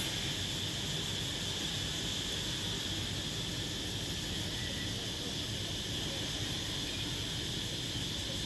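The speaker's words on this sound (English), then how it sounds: "The sound of the crickets." Crickets at dusk on a hot evening, a continuous high, dense chirring that holds steady and even from start to finish over a faint background hiss.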